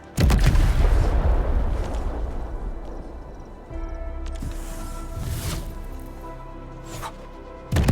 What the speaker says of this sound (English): Right on target. I give that explosion a 10 out of 10.